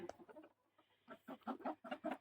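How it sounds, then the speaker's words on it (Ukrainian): Farmyard chickens and roosters cluck in a quick, uneven series of short calls, fairly faint, with a brief lull before a denser run of clucks near the end. "Вже прибрали більшу кількість півнів, але ще, здається, сім чи вісім лишилось."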